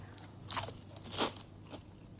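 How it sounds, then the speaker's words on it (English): Someone bites into a crispy golden fried croquette with a soft centre, giving two sharp, close crunches followed by a fainter third, alone and without talk. "But can you hear that crunch?"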